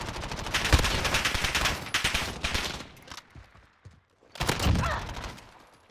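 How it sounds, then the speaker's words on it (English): Gunfire in Call of Duty: Warzone, dense automatic bursts up close, a pause of near quiet, then another burst, moderately loud. "I'm shooting paintballs"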